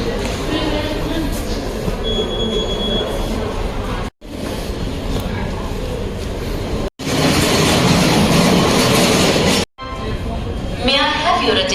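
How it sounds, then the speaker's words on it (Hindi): Train sounds at a busy railway station, with a steady loud rumble and clatter broken by several short gaps, and people talking underneath throughout. "एनीवेज आ गया है हमारा रेलवे स्टेशन फाइनली"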